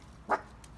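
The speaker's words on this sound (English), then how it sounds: "sorry for my dog" A single short, sharp dog bark rings out once, moderately close, against a quiet background with a faint second sound afterward.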